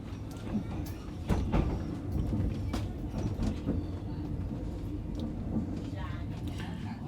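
A train pulling out of Bangkok, heard from inside a first-class carriage: a continuous low rumble and rattle with occasional clunks, steady and moderately loud, with a voice talking over it.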